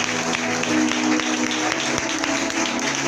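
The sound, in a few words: congregation applauding and cheering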